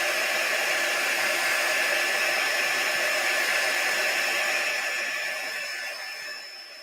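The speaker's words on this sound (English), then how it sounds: "Okay, I'm going to dry this real quick" A hair dryer drying craft paste on a cup, giving a steady, loud whooshing blow close by that fades slightly toward the end.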